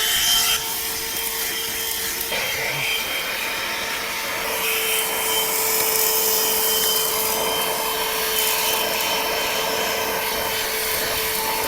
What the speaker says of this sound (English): it's time to vacuum off the first batch of dirt we brought to the surface